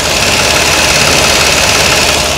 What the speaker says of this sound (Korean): 엔진 소리도 정상적인 소리 내주고 있는 차량이어서